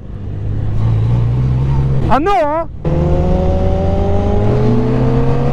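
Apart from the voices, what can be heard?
Can-Am Spyder F3-S accelerating with gear shifts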